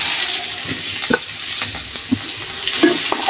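Chopped olives tossed into hot oil with mustard seeds for a sour olive relish sizzle loudly and close, with a steady frying hiss punctuated by scraping and clattering stirring sounds.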